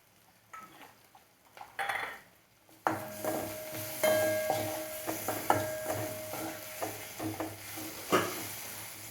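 After a quiet start with a few faint clicks, masala potato ingredients begin sautéing in a pan with a soft sizzle and repeated scraping and tapping of a spoon against the pan.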